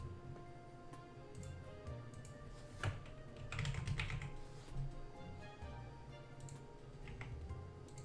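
Someone types on a computer keyboard during a Town of Salem game, with quick irregular key clicks close up and a few louder bursts, all quiet and without talk.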